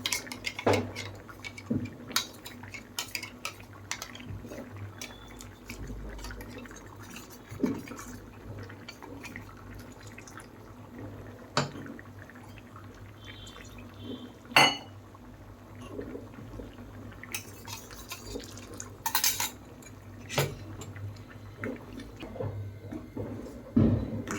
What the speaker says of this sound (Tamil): இந்த மிக்சி ஜாரை வந்துட்டு கொஞ்சமாக தண்ணி ஊற்றி கழுவிட்டு இதையும் நம்ம அது கூட சேர்த்துடலாம்